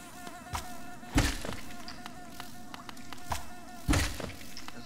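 Buzzing of bees in a video game hive level, a steady insect drone under repeated thumps and hits from combat, with no talk.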